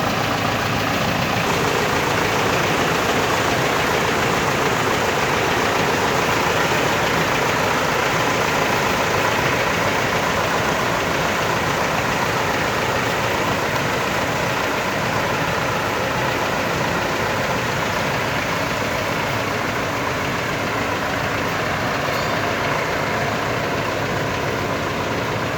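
A tractor harvesting maize for silage drones loudly and steadily at close range, a dense unbroken engine roar with machine noise and no talking.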